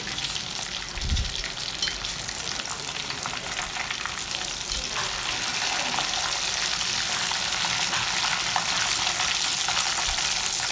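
Chicken pieces frying in hot coconut oil while being turned, a dense steady sizzle with occasional dull knocks as pieces are moved, loud and close, running continuously and swelling slightly toward the end.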